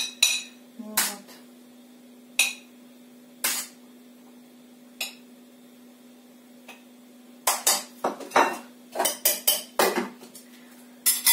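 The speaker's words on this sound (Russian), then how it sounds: "Помою посудку, покушаю" Dishes and cutlery are washed at a sink, with sparse clinks and knocks early on, a quiet stretch, then a rapid cluster of sharp metal and ceramic clatters, close by over a low steady hum.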